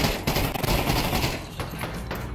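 Rapid gunfire from several weapons in Pavlov VR zombies mode: loud, close bursts of overlapping shots, continuous and dense, briefly thinning out toward the end.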